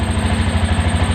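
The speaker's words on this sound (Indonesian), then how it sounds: "Suara knalpotnya." Honda Beat scooter exhaust running steadily just after starting, a loud, close, even throbbing idle with a regular low pulse and no talk.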